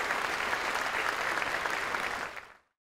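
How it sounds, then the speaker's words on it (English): Audience at a school gathering applauding a student named David, a dense steady wash of many hands clapping that holds strong, then tapers and dies away near the end. "Let's give him a round of applause for his outstanding work."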